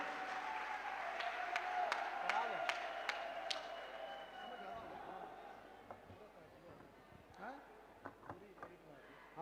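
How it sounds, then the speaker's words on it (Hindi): Crowd applause at an all-India poetry gathering in Bahal greets poet Yogendra Sharma, clapping steadily across a large audience while a voice talks over it, then thinning into scattered claps. "एक बार तालियां उठाए योगेंद्र शर्मा।"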